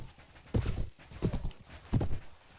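Horse hooves clatter during a Mount and Blade battle with archers, three loud, spaced bursts of clip-clop impacts standing out against a busy background of game noise.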